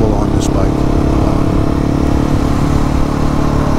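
A Husqvarna 701 Enduro motorcycle is ridden with a loud, constant engine drone and heavy wind rumble throughout, and a voice is faintly buried under the noise.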